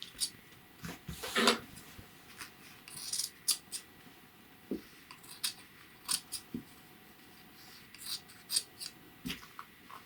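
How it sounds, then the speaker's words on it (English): Scissors snipping through buttonhole fabric on a jacket, a series of short, crisp cuts spaced irregularly, fairly close and moderately quiet against a soft background. "Make sure you're only cutting through this buttonhole fabric."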